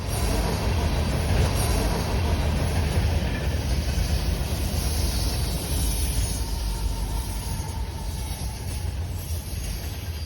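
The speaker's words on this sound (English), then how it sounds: "This train was also the only train of the day to have DPUs." Freight train with distributed power units rolling past, a loud, continuous rumble and roar with steady wheel noise filling the whole stretch, close by and with no talk.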